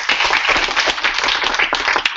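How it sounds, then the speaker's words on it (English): Audience applause at a data visualization workshop, a short burst of close, crisp clapping from a modest crowd with individual claps audible in an uneven rhythm. "Just a round of applause, please."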